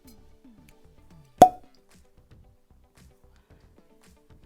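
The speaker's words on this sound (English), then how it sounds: "Probably the best cork pop of the year" A cork pops sharply out of a bottle of Deanston 12 whisky, a single loud, near plop against an otherwise quiet room with faint background sounds.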